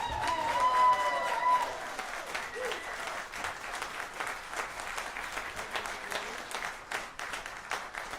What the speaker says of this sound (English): a special round of applause for Ed on the drums